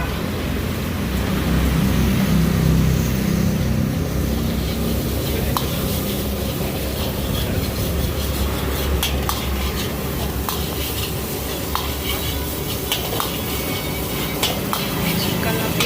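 Chicken rice stir-fried at a street food stall, with a loud continuous sizzle, repeated metal clanks and scrapes against the pan, and busy outdoor background noise.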